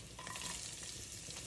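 Garlic fries in hot oil in a pan on the stove while pork ribs are cooked, giving a soft continuous sizzle with faint stirring, quiet and close, no voices.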